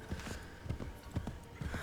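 Horse hooves clip-clop in Assassin's Creed III, a steady trotting rhythm of paired hoofbeats, loud and close over a low game ambience.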